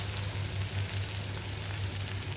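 Chopped onion and green chilies frying in a pan, a steady close sizzle with a low bubbling hum beneath, alone with no voices.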